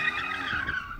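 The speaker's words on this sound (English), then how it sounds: "Nice, controlled, steady drift." A BMW M2 CS drifts with its rear tyres skidding, a loud, sustained tyre squeal heard up close for about a second before it fades.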